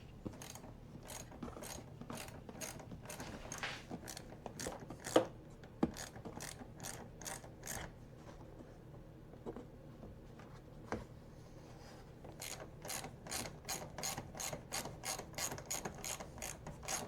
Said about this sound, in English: You can get everything as tight as it needs to be just with a ratchet